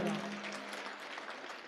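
Audience applause for a performer at a Panthi song stage program, a steady wash of clapping from the crowd lasting the whole moment, with a brief tone at the start.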